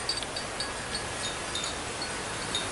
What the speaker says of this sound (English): Everywhere I stand it's crazy windy today.